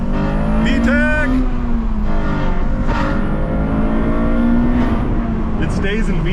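Acura RSX engine revving hard under acceleration into VTEC, a loud rising in-cabin engine note with pitch sweeps between shifts, someone talking excitedly over it.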